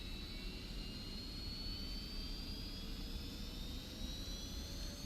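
A jet engine on an F-86F Sabre in the DCS flight simulator spools up at full throttle while the wheel brakes hold the aircraft, a steady roar with a rising high whine that climbs slowly in pitch.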